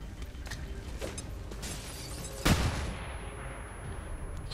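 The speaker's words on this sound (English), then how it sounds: "Another flashbang." A flashbang grenade goes off in the video game XCOM 2, a single sharp mid-distance bang halfway through, set against a low steady game ambience.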